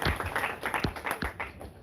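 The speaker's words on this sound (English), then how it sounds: "Please, a round of applause for them." An audience claps for a school quiz team at a live radio-hosted quiz event, a short burst of scattered individual claps heard fairly close.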